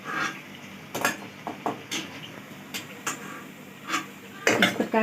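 Fried golden pithas clatter as they are moved one by one into a small kadhai, with repeated close metallic clinks and scrapes of utensil on pan in an uneven rhythm, ending in a quick cluster of knocks.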